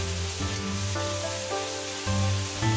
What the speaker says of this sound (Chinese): 投入姜、葱、蒜一起爆香